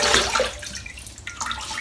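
Cold water runs from a bathroom tap for a wet shave, splashing and gurgling, loudest at the start and then thinning to an uneven trickle.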